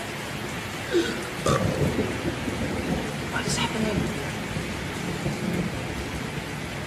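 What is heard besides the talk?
rain and thunder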